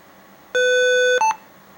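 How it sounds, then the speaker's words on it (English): A loud electronic beep held for over half a second, then a short higher blip right after, from a Dragon's Lair 2 arcade circuit board booting up, close and clear. "Then after like a few seconds it's going to make some beeps."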